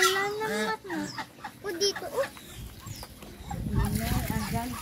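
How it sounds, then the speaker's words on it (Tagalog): Chickens in a pen cluck and squawk in irregular bursts nearby, with someone talking over them and other farm birds in the background. "Ayan, oh. May manok."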